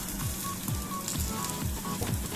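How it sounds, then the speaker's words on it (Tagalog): Shrimp chop suey vegetables such as black fungus, cauliflower, broccoli and Chinese cabbage sautéing in a hot pan, giving a steady close sizzle with soft stirring scrapes and no talking. "Igisa ko na lang din ang aking mga gulay."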